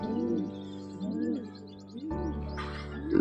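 Pet pigeon coos in soft repeated rolling calls close by, with faint chirps and a brief rustle in the background.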